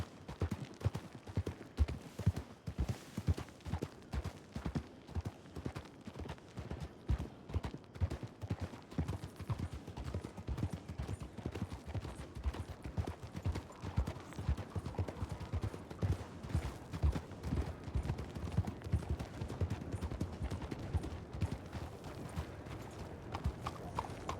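Horse hooves clip-clop in a steady, rapid rhythm in a video game, continuous and moderately close for the whole stretch with no talk over it.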